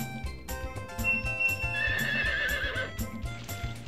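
A horse in the video game Harvest Moon 64 gives a clear electronic neigh over clip-clopping hooves and upbeat game music, with no voices.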